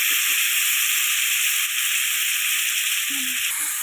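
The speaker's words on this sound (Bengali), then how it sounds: "টমেটোগুলো দিয়ে ভালো করে একটু ভেটে নেবো আমি টমেটোগুলো একটু গলে যাবে" Tomatoes frying in a pan while cooking a fish curry with cauliflower and potatoes, a steady, loud, even sizzle holding for several seconds, with a faint voice murmuring briefly underneath.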